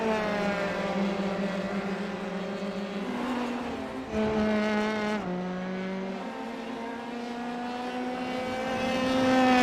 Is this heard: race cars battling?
yes